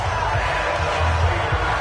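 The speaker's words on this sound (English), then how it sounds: "And the crowd really responded, didn't they?" Stadium crowd cheering in the video game Madden 20, a dense sustained roar of many voices filling the background, loud and unbroken with no distinct individual shouts.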